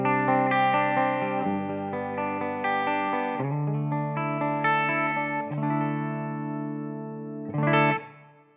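An electric guitar on its bridge pickup runs through a studio compressor and always-on reverb on a Fender Tone Master Pro into the Blue Guitar Amp 1 front input, playing clean sustained chords that ring out and overlap, ending with a brighter final strum.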